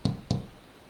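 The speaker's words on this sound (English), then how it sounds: "knock the base" A clay flower pot base knocked flat onto a table twice in quick succession, two close, dull thuds followed by quiet.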